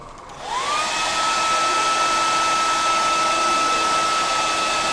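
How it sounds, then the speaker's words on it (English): A hair dryer switches on and blows steadily to dry paint on a scale model workpiece, spinning up to a loud, even whoosh with a faint motor whine and no talking. "I've got the hairdryer here, so I'll just give it a quick blast"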